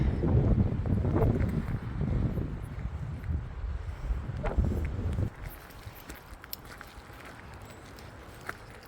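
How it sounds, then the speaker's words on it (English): Gusty wind buffets the microphone outdoors at Harbour Beach, Tasmania, loud rumbling bursts for several seconds before easing to a quieter breezy hiss. "I know it's going to be windy"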